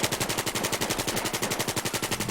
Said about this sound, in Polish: O, ktoś we mnie strzela